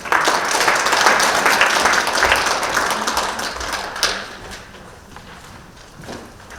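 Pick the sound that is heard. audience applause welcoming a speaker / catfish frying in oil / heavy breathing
audience applause welcoming a speaker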